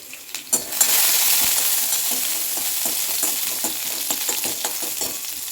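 Garlic drops into hot oil for a soup and bursts into a loud, steady sizzle with crackling pops, close and continuous without any talk.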